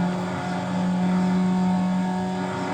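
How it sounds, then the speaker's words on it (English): A car engine in the racing game NFS Underground holds a loud, steady, echoey drone at constant pitch with no clear rise or fall, playing alone without voices. "this engine very similarly sounds to my Honda Prelude that I have"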